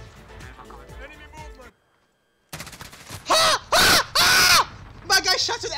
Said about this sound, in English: My guy shot at the enemy movement and he turned around and sniped me